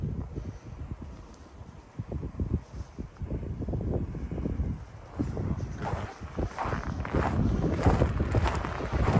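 Wind buffets and roars against the microphone during an outdoor winter walk by a creek in Regina, a steady rumbling gust that swells louder toward the end.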